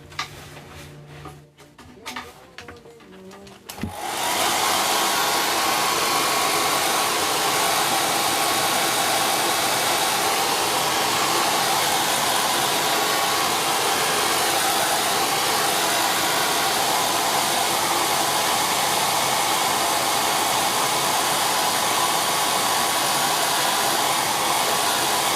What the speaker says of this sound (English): I'm going to use the hairdryer again.